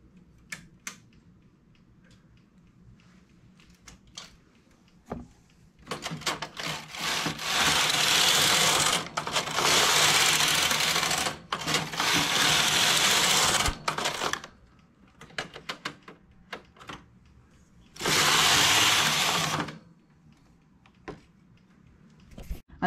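A knitting machine works a jacquard and popcorn-stitch leg warmer, its carriage sweeping across in several loud, rasping passes separated by quieter clicks and pauses.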